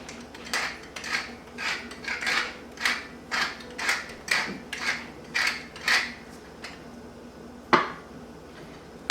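Salt and pepper ground over an egg mayonnaise sandwich, about a dozen evenly spaced gritty grinder turns, close and crisp, with a sharper clack near the end.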